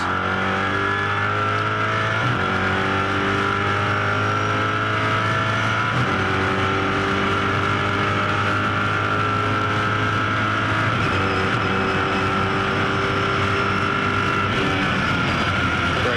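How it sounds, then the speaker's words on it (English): Onboard a Mosler MT900 GT3 race car at Bathurst during an Australian GT Championship race, the engine drones loud and steady, its pitch climbing in long pulls and dropping sharply at paddle-shifted gear changes, with no voices. "Let's jump aboard this Mosler MT900 GT3"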